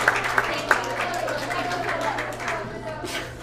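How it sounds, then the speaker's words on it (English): Round of applause at a family Sunday service, a few sharp individual claps up front giving way to a looser spread of clapping, with voices talking over it. "let's give a round of applause"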